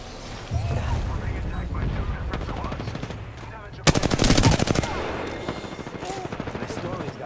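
Video game gunfire, a dense rapid burst of automatic fire in the middle with scattered shots and rumbling action around it, under in-game voices.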